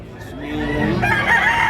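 A rooster crows loudly and close at a busy Tabunok, Talisay, Cebu poultry market, one drawn-out call rising over the background murmur and holding to the end.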